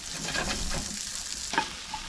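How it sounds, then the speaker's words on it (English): Onions frying in sizzling butter in a pan give a steady, close crackling hiss with occasional stirring scrapes and a brief clatter near the end. "with that butter nicely sizzling along there, I'll turn that down a bit and get these onions in."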